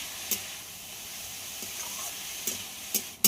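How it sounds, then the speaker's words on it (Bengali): Potatoes, raw peanuts and drumstick flowers fry in a pan with a steady soft sizzle, broken by a few sharp scraping clicks of a stirring utensil. "বাদামটা আলুর সঙ্গে 1 মিনিট মতো ভেজে নিয়েছি। এবার ফুলগুলো দিয়ে দেব ধুয়ে রাখা। সব কিছু খুব ভালো করে ভেজে নিতে হবে।"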